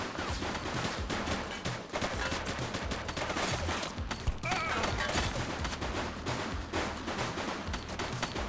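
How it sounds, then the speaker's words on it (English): Dense, continuous exchange of gunfire in the police video game The Precinct, heavy armed shootout with overlapping shots and bursts filling the whole stretch at steady high loudness. "Shots fired!"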